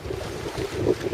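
Gusty wind rushes past an RS700 sailing dinghy on Lake Garda, a brief steady broadband roar with a low churning rumble of water and a slight swell near the end, no voices.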